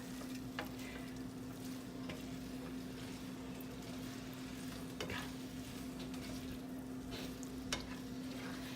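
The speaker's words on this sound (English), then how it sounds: "now we're gonna blend it all together until the noodles become saucy" Noodles being stirred through sauce in a pan over medium-high heat, a steady close scraping and stirring over a soft continuous sizzle, with no talking.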